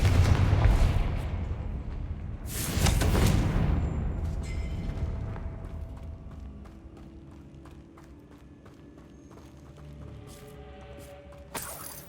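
A Confringo fire spell explodes in Hogwarts Legacy, with heavy booming blasts near the start and again shortly after, followed by lower rumbling game ambience and scattered light clicks.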